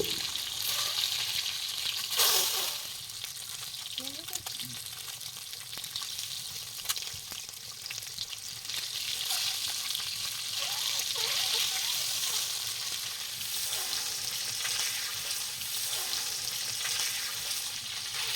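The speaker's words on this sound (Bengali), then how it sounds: "সেদ্ধ ডিমগুলিকে ছাড়িয়ে প্রথমে আমরা সরষের তেল দিয়ে একটু ভেজে নেব।" Steady frying sizzle of peeled boiled eggs in mustard oil in a hot pan, a continuous bright hiss with faint stirring and occasional pops, close by and without speech.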